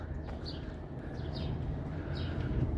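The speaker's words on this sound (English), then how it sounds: "It's quiet enough here to hear all the birds chirping." Birds chirp in short, scattered high calls in a quiet city park, fairly faint and heard over a low steady background hum.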